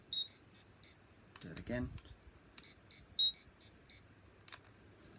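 A Mighty Morphin Power Rangers toy communicator emits a series of short, high electronic beeps in bursts, with a brief voice in the middle.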